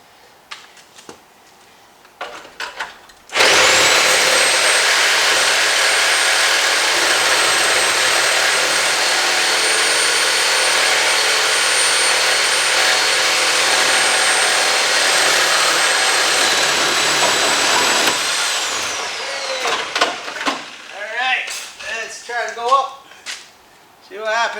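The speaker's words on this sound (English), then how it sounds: "let's cut that in half over there. The sawzall." A sawzall reciprocating saw cuts through a workpiece in a shop, running loud and steady for about fifteen seconds before winding down, with voices talking before and after.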